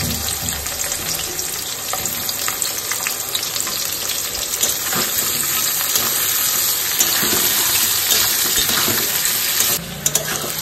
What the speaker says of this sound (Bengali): পেঁয়াজটা একটু ভাজা ভাজা হয়ে এসছে আমার